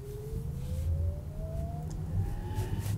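Artificial driving sound of a Porsche Taycan Turbo S electric car, a futuristic spaceship-like hum; a steady tone slowly rises in pitch over a low rumble, moderately quiet and alone without talk.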